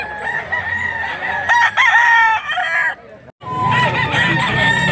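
A rooster crows loudly and close by, with a long call followed by a second crow after a brief break.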